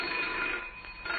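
A telephone bell rings in a radio drama, a steady, continuous ring with no voices over it.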